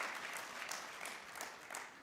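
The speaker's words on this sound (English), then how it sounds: "You should applaud yourself for this fantastic development." A seated audience applauds steadily at a national construction summit, a faint, even patter of clapping with no voices over it.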